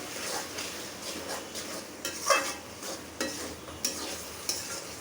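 A vegetable curry fries in oil while being stirred, a soft continuous sizzle punctuated by several sharp metallic scrapes and clinks of a spoon on the pan at irregular intervals.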